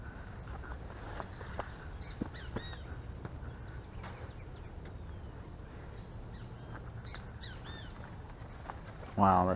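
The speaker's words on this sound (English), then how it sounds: "mostly all you hear are the birds in the trees" Birds call and chirp from the trees of a garden in Medellin, Colombia, short scattered notes over a steady low city hum, with a louder burst of sound at the very end.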